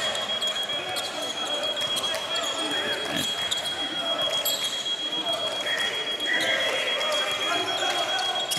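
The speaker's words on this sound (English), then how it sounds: "there's an irritating beeping sound here" A persistent high electronic beep rings steadily through a basketball gym during a San Diego City versus Allan Hancock men's college game, sitting under crowd noise, sneaker squeaks and a commentator's voice.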